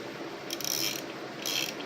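A hand ratchet clicks in short bursts while tightening a bolt on the primary cover of a Harley-Davidson Heritage Classic; two quick rapid runs of fine metallic clicking, close and quiet, with no talk.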